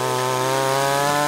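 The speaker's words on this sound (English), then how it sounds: "The LEA chainsaw can be deployed for a wide variety of jobs." A LEA petrol chainsaw runs close and loud, its engine holding a steady, unbroken buzzing drone.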